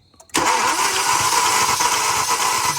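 After a brief quiet moment, a car engine suddenly roars to life and runs steadily and loudly, close by.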